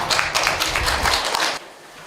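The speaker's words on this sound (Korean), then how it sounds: "여러분, 박수 해주시면 감사하겠습니다" An audience at a Korean art forum applauds to welcome a host to the front: dense, fairly close clapping for about a second and a half, then it drops away abruptly.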